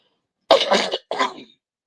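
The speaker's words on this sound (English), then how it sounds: "Still got a little bit of the cough." A short cough followed by a throat clear, close and distinct, with silence before and after.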